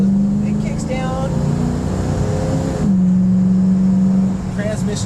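A 1967 Ford Mustang coupe with automatic transmission accelerates as the gearbox kicks down, a steady engine drone that drops pitch at the shift then holds, heard from inside the car.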